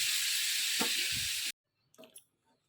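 Yogurt goes into a pan of sizzling fried tempering, a loud, even hiss with a brief stir, then the sizzle stops abruptly and a few faint clinks follow in near silence.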